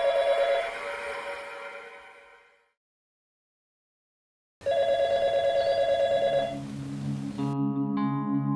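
A telephone rings with a bright electronic trill that fades out, then after a silence rings again, followed by other tonal beeps.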